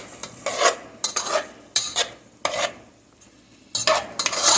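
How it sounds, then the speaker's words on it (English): Shrimp sautéing for shrimp and grits, heard as repeated bursts of a utensil scraping and stirring in a pan over a soft sizzle, in four or five close, fairly loud strokes with no talking. "You just wanna kind of saute them."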